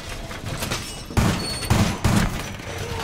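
Video game gunfire crackles in a steady busy burst, with three heavier, louder thuds standing out partway through, all close and loud with no talking.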